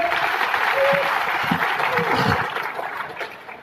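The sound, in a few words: audience applause welcoming a guest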